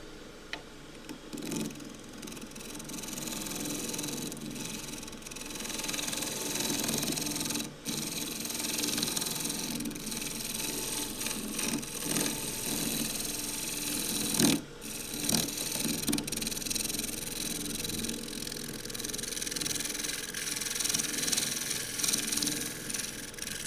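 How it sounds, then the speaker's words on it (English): A shear scraper works a thin-walled elm spatula pot on a wood lathe, making a faint, continuous rasping rub with a soft ticking rhythm and a couple of sharper clicks, without any talking. "Now I'm going to feel safer doing this with shear scraping."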